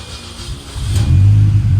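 A Mini Cooper engine, just fitted with new spark plugs and coil packs, cranks and catches, its low rumble swelling and holding loud and close through the last second with no talk.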